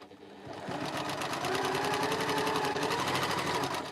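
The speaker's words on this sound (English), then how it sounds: "I'm sewing that down the edge." A sewing machine stitches down the edge of a quilt block, running as one steady, rapid, even burr of needle strokes from start to finish, close and fairly loud with no talking.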